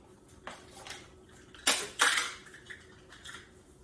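A utensil stirs a white roux paste in a cooking pot for mac and cheese, giving several close metallic scrapes and clinks against the pot, with two louder strokes in the middle and no talking.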